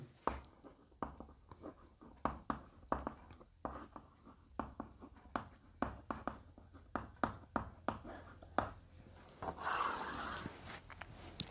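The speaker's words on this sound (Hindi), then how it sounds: "एक साथ लिखेंगे मेंडलीव की आवर्त सारणी, और दूसरी लिखेंगे बेटा आधुनिक आवर्त सारणी" A pen or chalk writes out Mendeleev's and the modern periodic tables in a classroom lesson, with quiet, irregular strokes and taps in quick succession and a brief rustle near the end.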